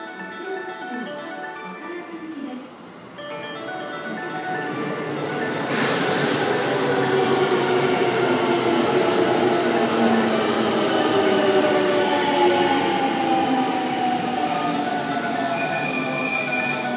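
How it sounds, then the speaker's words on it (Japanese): A train rolls into Taisho Station on the Osaka Loop Line, its rumble and screeching brakes swelling to a loud, sustained roar after a brief burst of air. "電車が参ります"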